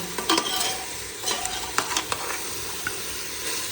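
Chicken being stirred with turmeric and salt in hot oil, a spoon scraping the pot in scattered strokes over a steady close sizzle, with no talking.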